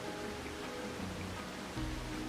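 Steady, dense hiss of rain in the video game Splatoon 3, an even wash of noise with a low rumble swelling slightly near the end; no voices.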